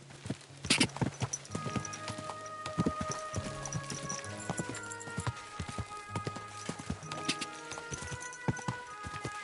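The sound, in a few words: horse hooves clip-clopping while riding, from video game Kingdom Come: Deliverance II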